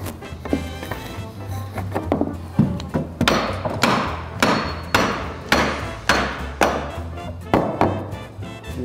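Hammer blows on wooden planks while planking a boat during a restoration, a steady series of about a dozen loud, close knocks with brief pauses between strikes.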